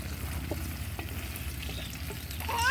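Food frying in hot oil in a pan, a steady close sizzle with light bubbling crackle and a rising stir near the end.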